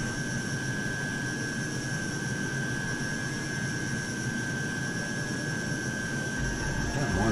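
A jet aircraft engine in Microsoft Flight Simulator drones steadily with a constant high whine over a broad roar, loud and unchanging throughout, with no speech.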